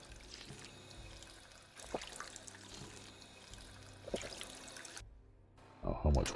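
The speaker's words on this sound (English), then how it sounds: "There's a water fountain right here." A water fountain pouring in the Fallout 4 video game, a steady splashing stream heard throughout with a couple of brief gaps, quiet and close, ending in a short burst of louder game noise.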